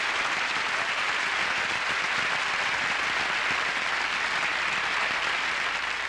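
A church congregation at Lakewood Church in 1986 claps together in a steady, dense burst of applause that stays evenly loud for several seconds with no voices standing out.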